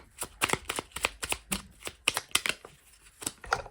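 Tarot cards being shuffled by hand before a card is drawn, a steady run of crisp riffling slaps and flicks repeating every fraction of a second, close and fairly loud with no talk.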